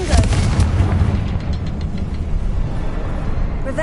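A Confringo blasting spell explosion in Hogwarts Legacy, a loud booming blast with a deep rumbling tail that stays heavy and sustained through the clip.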